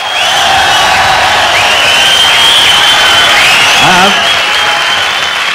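Concert audience applauding a drummer at a 1977 rock show: loud, sustained clapping and crowd noise fill the whole stretch, with a brief voice rising over it near the end.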